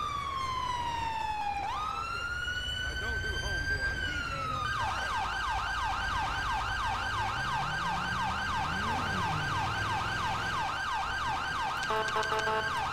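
A Ford F-450 SuperCab EMS ambulance in GTA 5 responds through Vinewood Hills, its siren loud and close, rising in a long wail, then switching to a rapid yelp that repeats steadily over engine rumble.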